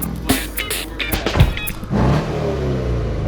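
A Corvette fitted with an aftermarket exhaust rumbles and revs up close, with sharp transient clicks and knocks over the low engine drone and a rising rev partway through.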